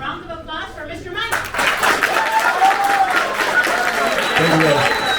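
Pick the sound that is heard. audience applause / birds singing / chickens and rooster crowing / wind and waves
audience applause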